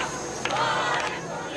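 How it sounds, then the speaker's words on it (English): A crowd of fearful residents fills the streets in Brazil, voices merging into a loud, restless clamour with a brief swell of shouting partway through. "crowds of fearful residents took to the streets"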